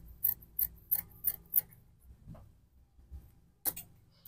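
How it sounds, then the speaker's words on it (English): Scissors snip through zipper fabric while sewing, five quick crisp cuts in a steady rhythm, then a pause with faint handling rustle and one more sharp snip near the end, close and fairly quiet. "then cut this part off so that my zipper can relax very well"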